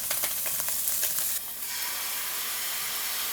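Banh xeo batter hits an oiled pan with a sudden loud sizzle, a hissing frying wash that holds steady right up close after a few clinks of stirring.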